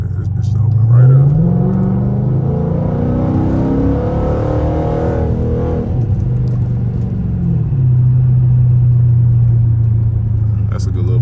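A straight-piped 345 Hemi Dodge Charger R/T pulls hard on the highway, its loud, rumbling engine climbing in pitch, dropping through downshifts and revving again, with the exhaust roaring steadily close up throughout.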